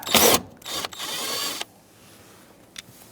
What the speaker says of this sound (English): and undo the 3 bolts